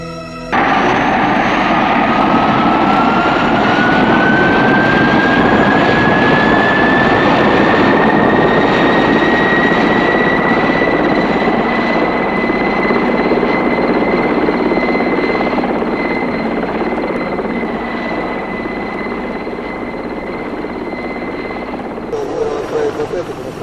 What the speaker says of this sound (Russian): На помощь пришли самолеты гражданской авиации.